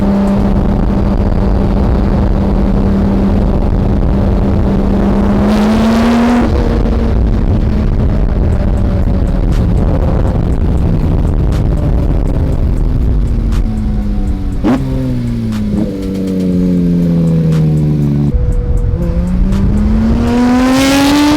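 A Porsche 992 GT3 RS with an R1 Motorsport RSR exhaust revs hard several times, the engine note climbing sharply and then dropping away between blips, loud and close with a raspy tone.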